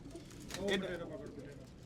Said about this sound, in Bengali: আমরা এখানে ডাক শুনতেছি কবুতরের এই যে এটা হলো জিরা